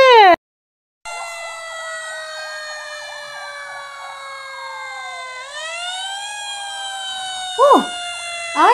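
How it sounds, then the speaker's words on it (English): A fire truck siren wails loud and close, a sustained tone with rapid pulsing yelps that then glides downward, with brief horn-like blasts near the end. "Oh, I hear the fire truck."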